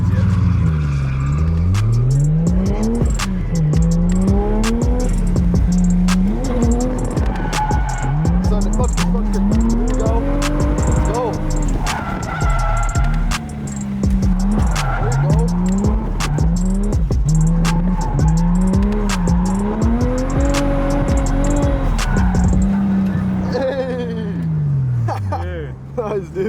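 A car drifts around a track on a hot day, engine revving and falling in repeated swooping cycles while tires squeal and skid, loud and close, with voices talking over it.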